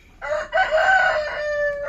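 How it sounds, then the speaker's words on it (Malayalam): Rooster crowing among native farm chickens, with clucking mixed in; a loud, close, sustained crow with harmonic tones runs through the two seconds, no talk. "ഇഷ്ടം പോലെ കോഴികളൊക്കെ ഉണ്ട് ഇവിടെ."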